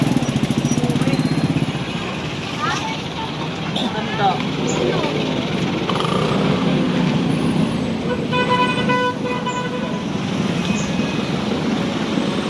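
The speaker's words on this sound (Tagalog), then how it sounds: "Traffic na." Busy road traffic at the Malabon fish market, with engine rumble and repeated car horn toots cutting through, while people talk and bargain nearby throughout.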